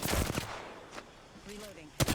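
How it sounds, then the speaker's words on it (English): Bursts of gunfire from the video game Apex Legends crack out near the start and again at the end, with quieter game noises in between. "Opening fire on the enemy"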